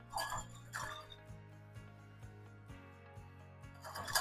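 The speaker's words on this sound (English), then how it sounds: "we're going to whisk this together" A whisk clinks steadily against a bowl while oil, vinegar, garlic, salt and pepper are beaten together, giving quick close metallic taps in uneven bursts.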